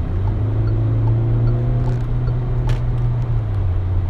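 Peugeot 2008 GT in sport mode under full throttle, a loud steady engine drone with a sustained low tone holding and slightly dropping, heard from inside the cabin.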